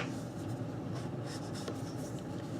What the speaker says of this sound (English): So I'm going to ink these up.